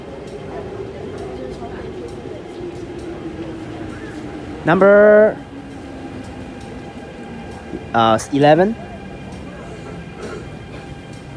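An MTR train pulls into the Tung Chung Station platform with a steady low rumble and a faint electric whine that holds for several seconds. Someone speaks briefly in the middle.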